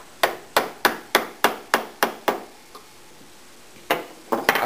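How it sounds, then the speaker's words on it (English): A fishtail chisel is struck with a mallet to chop out waste between wood dovetails. Nine sharp, evenly spaced knocks are followed by a quiet pause, then a few more blows. The sound is close and clear, with no talk. "I find a little fishtail chisel works best for cleaning out these dovetails."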